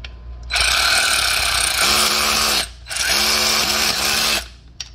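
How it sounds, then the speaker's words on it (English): An electric ratchet spins a bolt out on a Honda Pilot in two close, loud bursts, the buzzing whir of the second burst faltering and then cutting off. "I can just use my electric ratchet"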